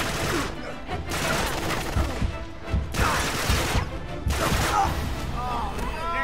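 Uncharted 3 firefight with several bursts of gunshots and impacts arriving in clusters, moderately loud, interleaved with voices talking between and over the shots.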